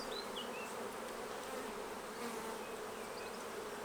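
Honey bees buzz in an open hive during queen rearing, a soft, continuous hum of many insects with a few individual bees droning close by.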